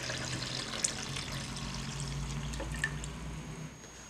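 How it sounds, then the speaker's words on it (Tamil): Water poured into lemon juice sweetened with country sugar, a steady close liquid pour with a few drips, heard alone with no talk. "இப்போ தண்ணி ஆட் பண்ணிக்கலாம்."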